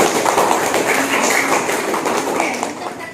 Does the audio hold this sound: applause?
yes